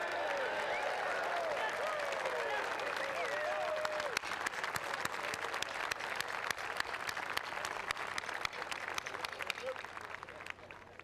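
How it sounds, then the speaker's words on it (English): Welcoming applause from a large crowd at an outdoor university commencement, steady dense clapping lasting throughout, somewhat distant, with birdsong-like whistles and voices mixed in early. "I wish you would all join me in an applause of welcome for the great Dartmouth class of"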